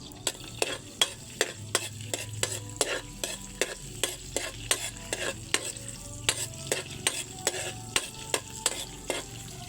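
Vegetables fry in a pan for a home-cooked Filipino dish while a utensil stirs them. Quick scraping clinks repeat in a steady rhythm, close up over a continuous soft sizzle, with no talking.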